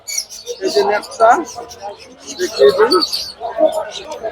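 Pigeons at a tribal village haat market pigeon fair, with soft cooing and chirping bursts close by amid people talking.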